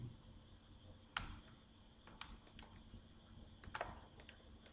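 Keys tapped on a computer keyboard while entering numbers into an Excel spreadsheet, a quiet, uneven run of light clicks with a few sharper strokes against a faint room hum.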